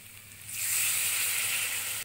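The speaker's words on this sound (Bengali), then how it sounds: "এবার এর মধ্যে দিয়ে দেব জল" Water poured into a pan of potatoes and plantain frying with spices sets off a sudden loud hiss that swells and holds for over a second before cutting off, close by and without talk.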